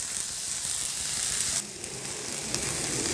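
Onions stir-frying in a pan over medium-low heat for a vegetable bibimbap, a steady soft sizzle that dips briefly midway then carries on evenly, with no talking.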